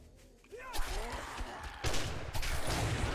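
Gunfire in the zombie survival game 7 Days to Die: a burst of sharp shots and thuds that starts quietly, swells into louder bursts and continues in rough clusters, with some voice in the mix.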